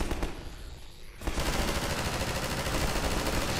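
Rapid machine gun fire in the video game Half-Life, a dense continuous rattle of shots that breaks off briefly, then resumes loud and sustained.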